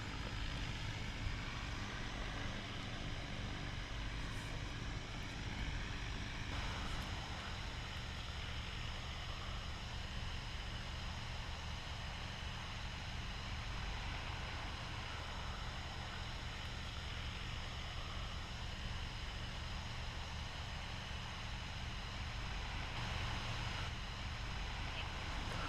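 An AUAV A70 agricultural spreading drone flies its mission, a steady broadband propeller drone with wind noise running continuously at moderate distance throughout.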